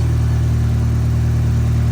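A Mazda Miata with a newly fitted 3-inch V-band downpipe idles steadily as it warms up, a loud, even engine drone with a low pulsing exhaust note and no talk.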